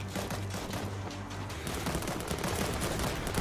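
An auto turret firing in World War Z, a dense continuous rattle of rapid shots, fairly faint and steady throughout with no talking.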